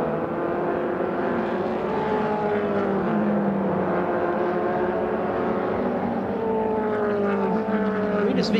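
MRF 2000 open-wheel race cars scream past on a circuit, with high engine whines sweeping down in pitch as they pass. Cars battling for position overlap in a continuous loud roar.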